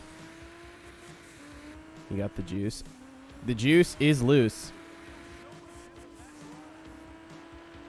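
Race cars in the video game Juiced 2: Hot Import Nights, with steady engine drone punctuated by two loud bursts of revving and squealing tires around the middle, while a person talks over the game sounds.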